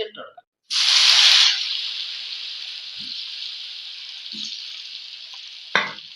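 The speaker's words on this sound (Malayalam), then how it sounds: "നമ്മുടെ വെളിച്ചെണ്ണ ചൂടായിട്ടുണ്ട് ഇതിലേക്ക് നമ്മുടെ മസാല പുരട്ടി കൊടുത്ത കായ ഇട്ട് കൊടുക്കാം" Masala-coated raw plantain slices drop into hot coconut oil with a sudden loud sizzle burst that settles into a steady frying hiss, with a few soft knocks from a utensil.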